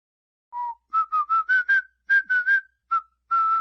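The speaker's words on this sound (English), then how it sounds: "Okay, that's our whistling track." A melodic whistled tune in short separate notes, several in quick succession with brief pauses, clear and close with no voices.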